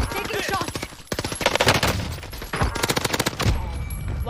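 Video game battle gunfire: loud, rapid bursts of automatic shots crackle in several separate volleys, close and dense, with brief gaps between them.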